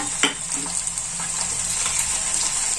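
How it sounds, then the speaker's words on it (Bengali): Ginger paste and spices frying in a pan, a steady bright sizzle up close with a sharp clink of a spoon near the start and light stirring scrapes throughout, no voices. "এটাকে আমি একটু কষিয়ে নেব।"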